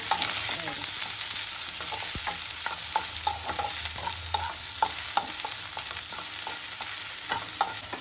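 Chopped onions and whole cumin seeds frying in hot oil, a steady sizzle broken by regular scraping stirs of a spoon in the pan, close and fairly quiet.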